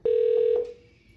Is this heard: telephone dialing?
yes